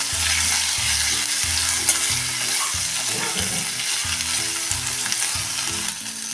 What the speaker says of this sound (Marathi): हे चिरलेली भेंडी आता ह्यामध्ये टाकून गॅसच्या मिडियम फ्लेममध्ये टाकून परतत राहायचं आहे